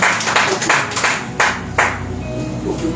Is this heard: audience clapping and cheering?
yes